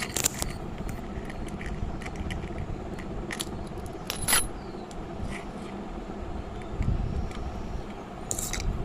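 Nuts being tightened on adjustable roller skates, with close metallic clicks, small ratcheting taps and scraping knocks in an uneven rhythm against a steady outdoor background hum.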